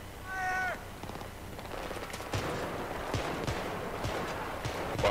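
Battlefield 3 co-op gunfire: a rapid burst of shots near the start, then scattered distant gunfire and impacts continuing under steady battlefield ambience.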